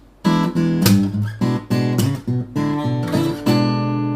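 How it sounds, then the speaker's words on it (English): Acoustic guitar fingerpicks a 12-bar blues with a walking bass line in a rock and roll shuffle rhythm, steady strummed chords over low bass notes, close and fairly loud with no talking. "So now I'm gonna play the entire 12-bar blues"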